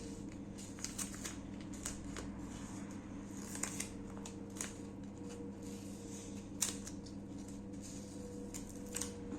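Scissors cut paper in two while an advent calendar is being made. Faint snips and rustles repeat close by over a steady low background hum.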